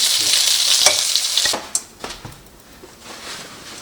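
Chicken wings frying in oil in a pan, a loud bright sizzle that fades after a second and a half into quieter crackles with a few sharp clicks and scrapes.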